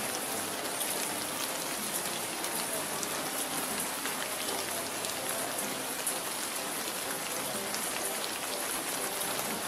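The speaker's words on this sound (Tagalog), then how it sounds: "Lakas ng ulan" Heavy rain pours steadily onto a surface with dense, unbroken patter, loud and close throughout, while a group of people takes shelter from the downpour.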